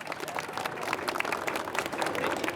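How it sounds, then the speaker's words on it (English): An audience gives a round of applause for a firefighter being welcomed on stage, a dense crowd clapping that stays steady and fairly loud through the short stretch. "Please welcome, give him a big round of applause, everybody, Josh Garcia."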